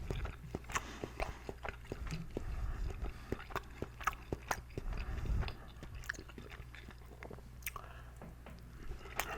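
Close, intimate chewing of chicken and rice, with soft wet bites and occasional crunches in an irregular rhythm, quiet and alone without speech.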